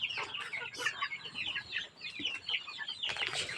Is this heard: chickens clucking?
yes